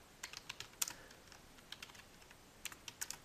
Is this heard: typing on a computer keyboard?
yes